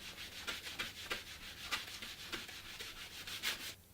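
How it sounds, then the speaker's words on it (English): A plastic scouring pad rubs back and forth across an acrylic swatch, making a soft, steady scratchy scrubbing in close repeated strokes that stops just before the end. "we use the scouring pad and rub on the surface"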